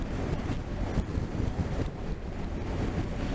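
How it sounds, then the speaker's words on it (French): Strong wind rushes and buffets against the microphone in a continuous low roar, with no voices. "j'ai un vent de gauche là qui souffle."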